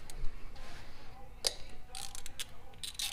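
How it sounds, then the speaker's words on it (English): A ratchet clicks close by while bolts come out of the intake manifold of a twin-turbo Mazda RX-7 13B. Short, fairly quiet bursts of ticking sit over a steady background hiss. "I'm just going around taking all these bolts out on this manifold"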